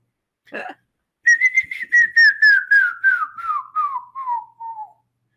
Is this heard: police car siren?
no